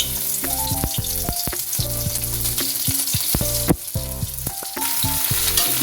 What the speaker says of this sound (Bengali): ফোড়নের সাথে ঝিঙেটাকে ভেজে নিচ্ছি।